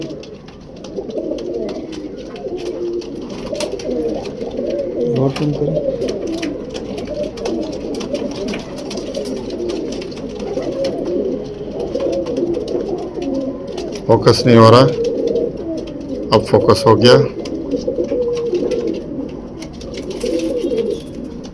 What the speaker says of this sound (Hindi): बड़ा कबूतर है।